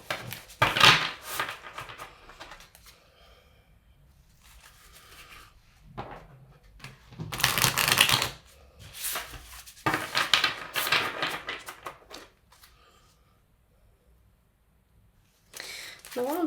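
An oracle card deck is shuffled by hand in several short papery bursts separated by quiet pauses, close and soft.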